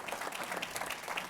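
A short burst of audience applause at a gathering, a moderate patter of many hands clapping at close range.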